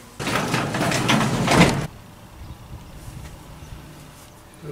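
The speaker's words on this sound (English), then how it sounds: "I'll raise the door and make sure what's on the other side before I start." A garage door with an emergency unlocking mechanism rolls upward in one loud, continuous scraping rumble lasting under two seconds, then stops abruptly, leaving quiet room tone.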